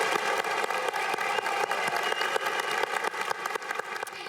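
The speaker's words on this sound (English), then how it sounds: "Please join me, those standing, and do a rousing applause for our 151st entering freshman class." Dense, sustained applause from a large audience at the 2016 University of Washington commencement greets the entering freshman class, a steady wash of clapping heard from a distance with no voices over it.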